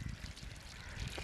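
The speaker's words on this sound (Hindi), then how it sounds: "डालते हैं इसको पानी" Water pours onto a grape vine outdoors, a short splashing trickle heard up close and fairly steady, with a faint voice beneath.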